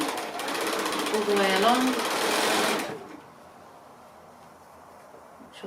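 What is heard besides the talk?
sewing machine stitching a quarter-inch seam on a pin cushion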